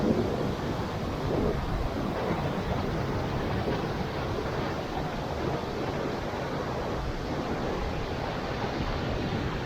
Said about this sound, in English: we don't want to stuck in here with that water rushing up and up